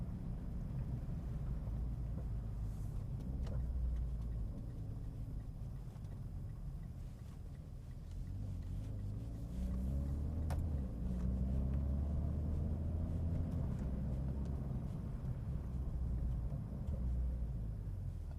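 A Mitsubishi Lancer Evo drives past on a slushy, partly cleared winter road, a low rumbling engine and tyre wash swelling midway and fading, heard with wind buffeting the microphone.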